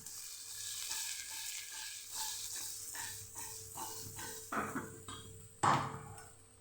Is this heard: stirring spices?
yes